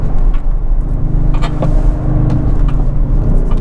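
2020 Audi S6 TDI, a two-ton diesel with 700 Nm of torque, braking into a corner and dropping a gear: loud close engine rumble that dips and surges as revs change, with brief knocks.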